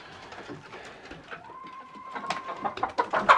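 Birds from a pasture-raised egg flock shift and flutter as they are pushed out of their coop with an old broom, a faint close bustle with a rising thin tone and growing scuffles toward the end.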